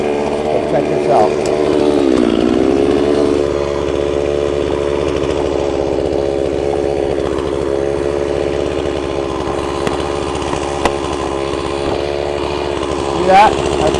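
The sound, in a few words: chainsaw cutting through tree trunk while felling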